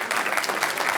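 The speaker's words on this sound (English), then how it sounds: "if we can get a round of applause" Applause from an audience at a film and TV alliance meeting: a brief burst of many hands clapping, dense and fairly close, without voices.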